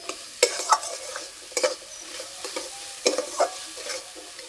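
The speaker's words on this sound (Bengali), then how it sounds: "স্বাদ মতো নুন, মশলার সঙ্গে মটরশুঁটি ভালো করে কষিয়ে নেব" Peas sautéed with salt and spices in a pan, giving a soft steady sizzle under repeated scraping stir strokes that come in irregular bursts, close and moderately loud, with no talking.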